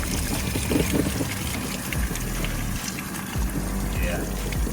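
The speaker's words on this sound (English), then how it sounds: "we're gonna watch the water coming out of here" Water running out of a 2000 Ford F350 cooling system during a coolant flush, a steady trickling and splashing flow with low rumbling underneath, with someone talking over it.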